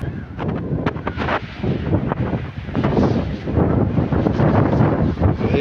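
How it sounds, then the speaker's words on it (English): Strong February wind at Corralejo roars and buffets the microphone continuously, loud and gusty throughout with no clear talk. "Very windy."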